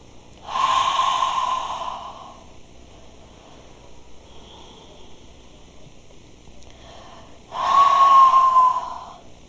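Two slow, full breaths during a gentle yin yoga pose, each a long, close, airy exhale lasting about two seconds, separated by several seconds of near silence.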